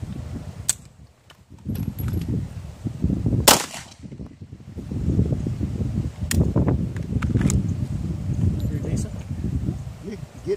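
Pistol training at a range brings a few loud, sharp single shots, one standing out above the rest. Voices and rumbling background noise run between the shots.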